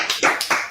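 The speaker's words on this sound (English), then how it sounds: "Clap it up, we're up on the time." Class claps in quick, sharp strokes, with a handful of distinct claps close together over a brief moment and no speech.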